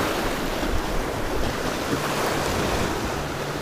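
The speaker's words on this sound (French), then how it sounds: "Un peu de vent." Wind blows by the sea during shore fishing for saupe, a steady, loud broadband rush mixed with surf, with no talking.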